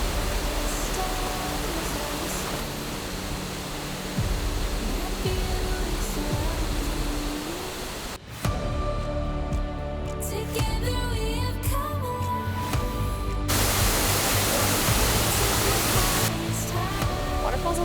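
A waterfall in Germany pours in a steady broadband roar close by, dropping briefly near the middle before the rush returns at full strength.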